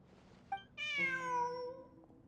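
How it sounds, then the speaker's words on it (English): A cat in the video game Genshin Impact gives one short chirp followed by a single drawn-out, close, clear meow that fades at the end. "Look, a cat."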